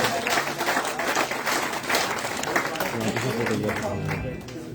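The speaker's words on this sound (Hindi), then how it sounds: "जोरदार तालियों से" Dense applause from a crowd at a political felicitation event fills the space, with a voice speaking through it as the clapping continues.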